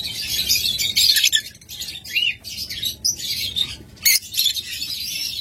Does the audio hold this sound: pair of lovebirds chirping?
yes